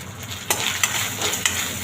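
Onion tipped into a hot pan with curry leaves and ginger-garlic paste for a potato bhaji, frying with a steady close sizzle and a few sharp stirring scrapes, no voices.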